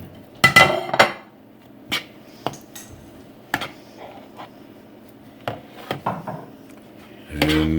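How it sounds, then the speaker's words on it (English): A spoon knocks and scrapes hard against a bowl while mashed potato mixture for croquettes is stirred, irregular clinks and taps spaced apart over quiet background, close up, ending in a louder clattering burst. "And stir hard"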